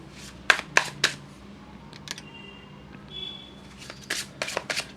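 Tarot cards are handled and shuffled, with a few crisp riffles and slaps, then softer sliding and tapping, close and fairly quiet, with no speech.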